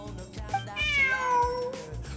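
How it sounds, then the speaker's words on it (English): Cat meowing in the Genshin Impact video game, set in Sumeru: a few drawn-out, rising and falling meows over a steady game music bed, fairly clear and close. "Look! A cat!"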